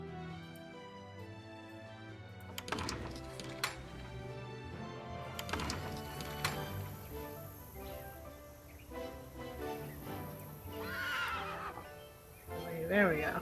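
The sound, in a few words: horse neighing, Nancy Drew Secret of Shadow Ranch video game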